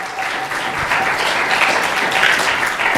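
A Sunday gathering at the ISKCON Phoenix temple breaks into warm applause welcoming new visitors, with loud, dense clapping held steadily for three seconds.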